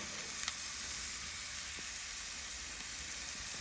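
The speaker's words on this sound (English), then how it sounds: "So I think we're gonna start searing." Thin slices of fatty pork secreto sear in a cast iron pan on a Weber grill, making a steady, close, even sizzle with a few faint pops and no voices.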